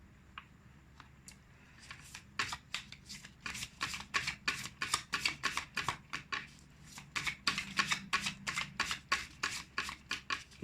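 Tarot cards shuffled by hand at close range, a long run of quick crisp riffling flutters in a steady rhythm, soft overall and with no talking.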